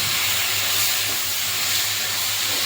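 Six chopped tomatoes sauté in a pan for tomato chammanthi, giving off a continuous close, loud hiss of sizzling with no talk over it.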